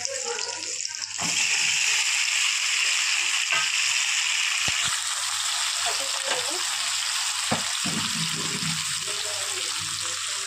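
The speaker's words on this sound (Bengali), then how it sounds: "এবার এটা খুব ভালো করে আলু পেঁয়াজটা ভেজে দেবো।" Potatoes and onions sizzle steadily in a pan of hot oil for a prawn curry, a loud continuous frying hiss with a few stirring knocks and clinks, with no one talking.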